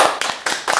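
Students clap for themselves at the end of a storytelling class, a few close, loud, uneven bursts of hand claps in quick succession.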